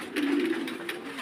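A fancy pigeon in a loft gives one short, low, throaty coo, close and clear above a faint background.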